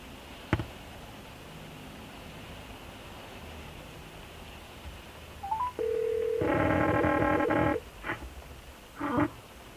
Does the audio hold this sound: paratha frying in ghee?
no